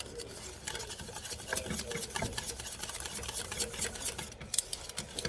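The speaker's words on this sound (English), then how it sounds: "I'm going to stir this a little bit more" A spoon stirs homemade caramel in a pot, producing a continuous soft scraping and swishing that runs close and steady, with faint background noise and no talk.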